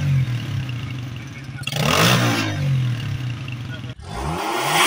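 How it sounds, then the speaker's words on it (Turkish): A car fitted with a loud modified aftermarket exhaust revs hard in a street during a traffic police noise check. Two sharp, rising revving bursts stand out over an idling engine rumble, the second cut short and followed by more revving. "gürültüye neden olan abart egzoz takılı 18 aracı trafikten men etti"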